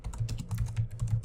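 Rapid keystrokes on a computer keyboard as a page title is typed into a WordPress page editor, a quick, close, steady patter of clicks with no talking.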